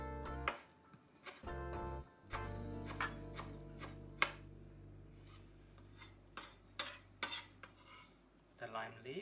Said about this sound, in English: I'm just gonna slice this.